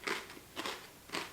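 Potato crisps bitten and crunched, three crisp crunching bursts close by with short pauses between them.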